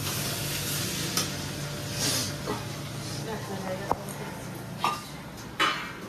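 Taro leaves (kochu shak) cook in a pan with a steady soft sizzle, broken by a few sharp scrapes and clinks of a spatula stirring, fairly quiet.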